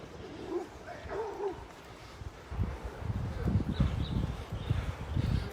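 A dog barks and yips a few times at close range outdoors, followed by gusty wind buffeting the microphone.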